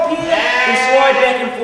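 A sheep bleats in a long wavering cry on a New Zealand farm during shearing, close and loud, with a person talking alongside.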